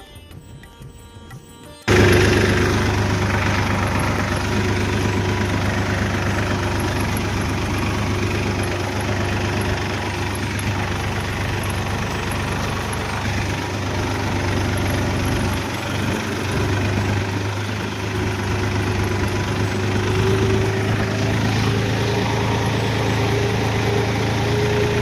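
A tractor loaded with seedlings for transplanting runs its engine close by after a quiet opening second, a loud, steady low throb with a knocking diesel rumble that continues unbroken.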